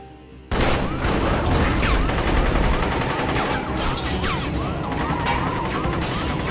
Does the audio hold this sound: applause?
no